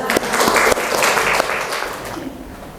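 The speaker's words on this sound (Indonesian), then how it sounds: "tepuk tangan untuk temannya" A small group in a classroom claps together in a brief burst of applause that quickly fades out.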